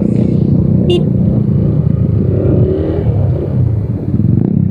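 A Raider 150 motorcycle engine revs loudly and close by in a dense, rumbling roar with clattering texture and a brief high whine near the start, and no clear speech.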